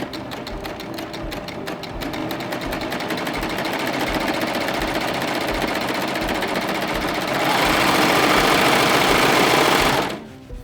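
Air-threading serger stitching fabric, its rapid even mechanical whir running close and loud without pause, building slightly in speed before stopping abruptly at the end.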